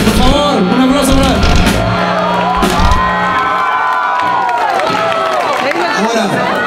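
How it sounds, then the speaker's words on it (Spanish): A live rock concert crowd at a summer festival cheers, whoops and shouts loudly and continuously, close and raucous, with voices and possible clapping mixed into the roar. "por favor, un aplauso para..."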